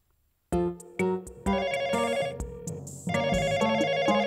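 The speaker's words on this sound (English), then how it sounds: "No one is answering the phone." A cartoon telephone rings in bright, repeated electronic bursts, several short rings spaced evenly and then a longer sustained ring, clear and alone with no talking.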